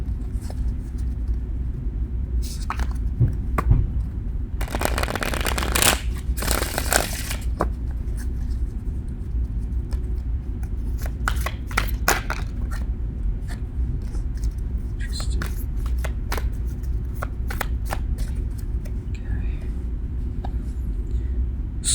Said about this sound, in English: And a few shuffles here.